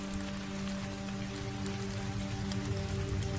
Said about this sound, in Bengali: চারপাশে আবার বৃষ্টির শব্দ গোম গোম করে বাজতে থাকে